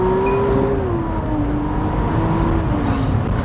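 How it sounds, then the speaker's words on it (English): McLaren Artura Spider accelerating hard in second gear toward the rev limiter, a loud, sustained engine note rising in pitch up close, with a brief upshift dip midway. "The way it now hunts down the rev limiter is just insane."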